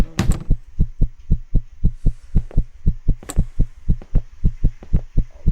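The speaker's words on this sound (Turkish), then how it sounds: "Ve kalp atışım bana söver gibi atıyor." Steady heartbeat from the horror video game One Late Night, a regular thumping pulse of about three beats per second, loud and close, running alone for several seconds with a faint hum beneath.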